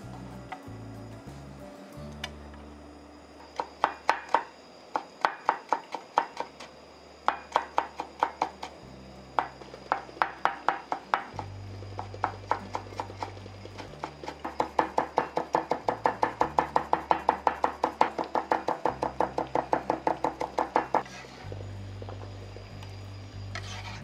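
A kitchen knife finely mincing pickles for tartar sauce on a cutting board produces close, crisp taps, first in scattered bursts and then in a fast, steady run of chops, with no speech.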